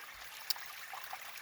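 Water trickles over rocks stacked into a small outdoor waterfall, a faint steady hiss of flowing water with a few tiny splashes and drips near the middle.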